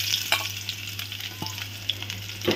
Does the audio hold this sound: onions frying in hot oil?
yes